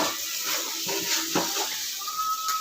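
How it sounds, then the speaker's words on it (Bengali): Water poured into frying masala in a pan for a taro (kochu) curry gives a close, continuous hissing sizzle with some bubbling and no talk. "এবার আমি একটু পরিমাণ আমি জল দেবো ঝোল করবো"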